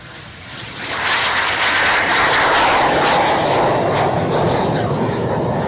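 An L39 jet aircraft passes at an air show, its engine roar swelling quickly after the first second into a loud, sustained broadband rush that stays strong to the end.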